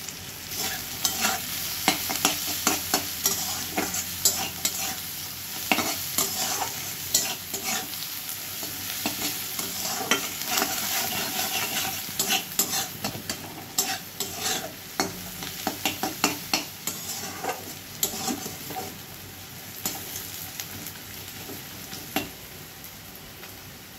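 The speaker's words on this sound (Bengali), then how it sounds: "পেঁয়াজগুলো ভাজা হয়ে গেছে।" Chowmein with onions fries in a hot pan while a spatula stirs and scrapes it, giving a continuous close sizzle broken by frequent sharp clicks and taps of metal against the pan.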